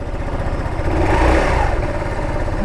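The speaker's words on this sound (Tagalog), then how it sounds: "So yung mga typical na tunugan ng scooter, ang tunog nya single exit." An FKM Hunter 150 scooter with a traditional GY6 engine and a single exhaust runs close by, a steady mid-pitched drone that swells briefly as the throttle opens, then settles back.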